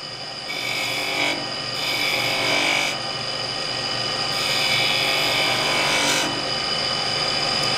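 A skew chisel cuts beads into spinning wood on a lathe, giving a steady, loud, close hiss and scraping whir with the motor's drone underneath, swelling and easing as the blade engages, with no speech.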